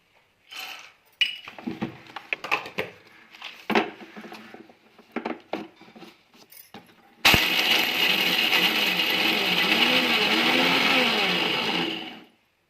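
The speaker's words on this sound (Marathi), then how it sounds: "आता आपण हे मिक्सरमध्ये बारीक करून घेणार आहोत" A few scattered knocks and clatters, then a loud mixer grinder whirs steadily for about five seconds grinding raw peanuts before spinning down.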